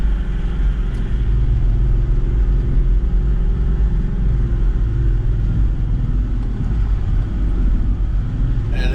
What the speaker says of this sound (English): But you can hear the car's definitely working.